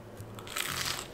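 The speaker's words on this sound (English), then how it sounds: "Listen to this toast crunch." Gluten-free toast crunches in a single brief, crisp bite, close up and fairly quiet, with dry crackling texture and no voices.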